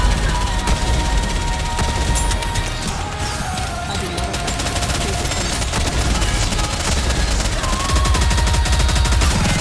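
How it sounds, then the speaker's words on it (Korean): Game combat in NIKKE, a loud, dense volley of rapid gunfire with crashing impacts and layered effects, continuous and close throughout, with a voice calling out over it. "명성이 유리 일제 사격!"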